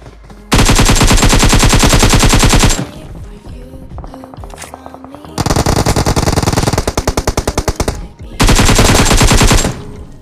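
Rapid automatic gunfire from shooting enemies in PUBG Mobile comes in three loud sustained bursts, each several seconds long, separated by brief quieter gaps holding softer thuds and a few single shots.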